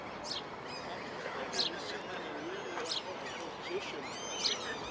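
Birds chirp and call outdoors near a statue in Finland, with several short bright calls repeating about every second and a half over steady low background noise.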